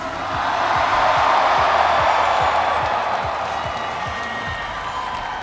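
A huge crowd of more than 3,000 shipbuilders at Newport News cheers and claps for President Obama, a loud sustained roar of whoops and applause that swells and then slowly eases.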